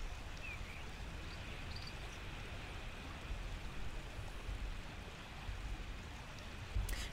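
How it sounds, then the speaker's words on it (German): Loud rushing water in the video game Starshine Legacy, a steady broadband roar that continues without a break and no one talking. "das Wasser rauscht total laut auf den Kopfhörern"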